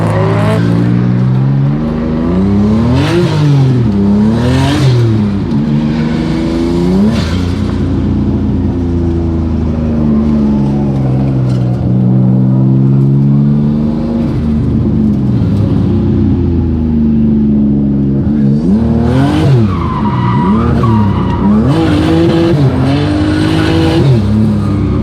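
A group of BMW E36 cars drift on track, engines revving hard and rising and falling in pitch while tires squeal and skid continuously, loud and close for the whole stretch.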